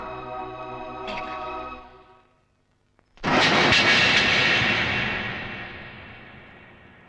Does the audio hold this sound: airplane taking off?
yes